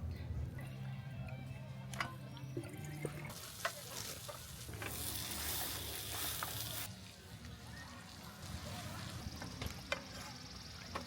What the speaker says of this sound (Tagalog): Magluluto tayo, guys, ng corned beef.